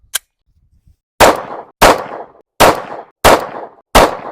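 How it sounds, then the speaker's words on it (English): A Rost Martin RM1C pistol fires Blazer brass 115-grain rounds at an outdoor range: one faint early shot, then five loud, sharp reports at an even pace, each with a short decaying tail, and no talk. "I think I'm getting a little bit more used to shooting the gun"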